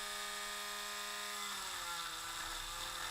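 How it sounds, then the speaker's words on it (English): A Dremel rotary tool cuts into a plastic toy part during a spring thigh modification, giving a steady high-pitched whine that drops in pitch partway through as the bit angles and bites into the plastic, close and continuous. "And then you slowly start angling your Dremel, okay?"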